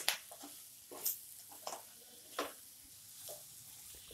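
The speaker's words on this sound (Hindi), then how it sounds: "इसे हम मध्यम आंच पे 1/2 मिनट तक बेसन के साथ भूनेंगे।" Green chillies roast with gram flour in a pan over medium heat for an instant pickle. A quiet sizzle sits under intermittent spatula scrapes and stirring clicks.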